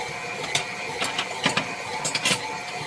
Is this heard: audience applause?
no